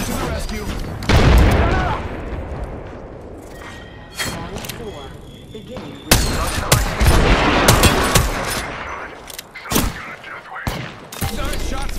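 Heavy gunfire and booming impacts from an Apex Legends match, with loud bursts and thuds that come and go. Several harder bursts arrive in the second half, and a player talks throughout.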